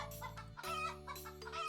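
Game chickens in Terracards cluck repeatedly in a busy, steady stream of short calls over a sustained low background tone, with no talking.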